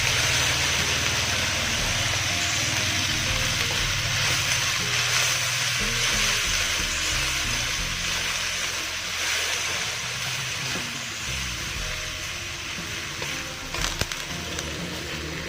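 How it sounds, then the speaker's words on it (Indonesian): Cabbage dry stir-frying in a pan without water, a dense steady sizzle with scraping and clattering stirs throughout, close and loud, no voices. "Ini kita tidak menggunakan air, ini tumis kering kol."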